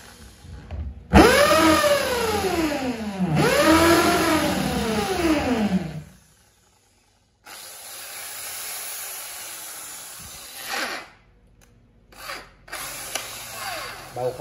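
A Makita two-function drill in concrete hammer mode, with a 13 mm aluminum chuck, revs up twice in quick surges that fall away, then runs again in short bursts broken by pauses.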